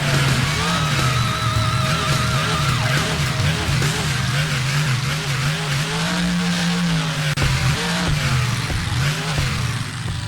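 Bigfoot monster truck in the Rigs of Rods driving simulator, its engine revving hard and wavering up and down continuously over loud, dense background noise, with no talk.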